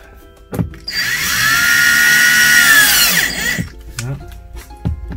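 A power drill drives a screw into a wooden batten while a blind is fitted: one loud, close whirring burst of about two and a half seconds, with short knocks and clatter before and after.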